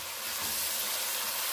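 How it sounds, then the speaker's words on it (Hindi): Steady, dense sizzling of mutton frying in hot spiced oil, a continuous crackling hiss at close range with no voices. "और गोश्त को तड़के के साथ भूनेंगे।"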